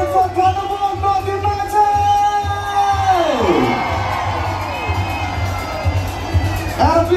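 At a football league final, a big stadium crowd cheers and shouts for a singer, a loud continuous roar with rising whoops, while an amplified voice speaks over it.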